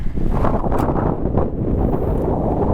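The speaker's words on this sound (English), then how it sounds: "getting into the windy days again" Steady wind buffeting the microphone beside a 2021 Toyota Supra 3.0, a constant low rumbling roar throughout.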